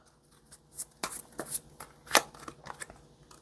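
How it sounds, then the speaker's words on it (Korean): Tarot cards are shuffled and one is drawn, making a quiet sequence of soft riffling snaps and flicks close by. The irregular papery taps peak near the middle, and no one speaks. "조언 카드 한 장만 뽑아 볼게요"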